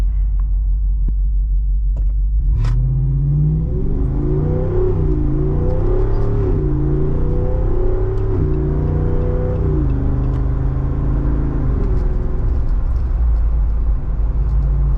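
A Jeep 392 V8 in off-road plus mode accelerates hard, its deep rumble climbing through rising revs with gear-shift steps, loud and close, no voices.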